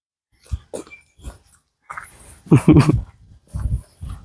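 A dog close by huffs, pants and snuffles in short bursts, with a few grunting, throaty noises between pauses.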